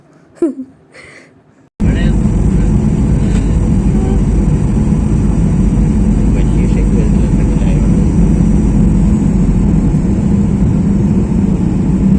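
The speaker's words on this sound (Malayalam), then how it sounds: "IX-551 air India express flight land ചെയ്യാൻ പോവുകയാണ്" After a brief quieter moment with a voice, a loud, steady engine roar inside an Air India Express aircraft cabin during landing takes over and holds constant throughout.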